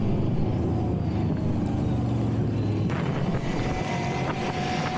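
A quad ATV rides at a quad and ATV meet at Pullman City, its engine a steady close drone under strong wind buffeting on the microphone, with no talking.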